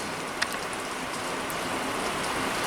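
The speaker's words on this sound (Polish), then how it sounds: "a że właśnie leje deszcz" Heavy rain pours steadily on a farm after a hailstorm, a dense, even hiss close by with no talk over it.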